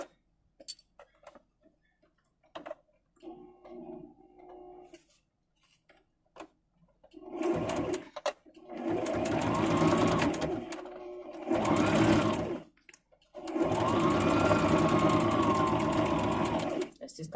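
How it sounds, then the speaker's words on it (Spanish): A sewing machine stitches fabric backed with stiff interfacing in several bursts: a few short, quieter runs, then longer loud whirring stretches separated by brief pauses. "entonces vamos a coser esto"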